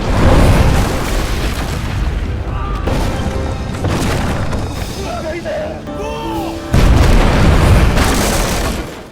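Cannon blasts from the mouth of a dragon-head warship boom heavily, with a long rolling roar that surges again near the end amid other crashing battle sounds.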